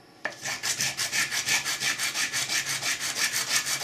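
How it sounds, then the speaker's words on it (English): Steady back-and-forth sanding strokes on a CABOT 1911 pistol trigger component, a rhythmic rasping scrape repeating about four times a second, close and fairly loud, starting abruptly and continuing without talk. "I'm going to sand it because it's rubbing a little."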